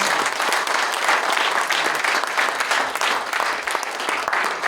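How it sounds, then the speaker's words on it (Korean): A congregation at a church general assembly worship service gives loud, sustained applause, a thick, continuous patter of many hands from start to finish. "인사하실 때 큰 박수로 격려하겠습니다"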